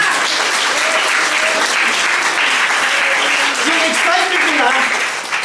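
Audience applause fills a church service, a steady dense clapping throughout with some voices faintly underneath.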